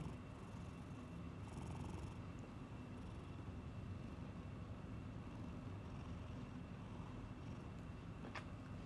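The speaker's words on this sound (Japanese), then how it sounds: "ぐるぐる言ってる" A cat purrs close up in a quiet indoor room, a soft, steady, low rumbling throb that continues throughout, with a faint brief rustle near the end.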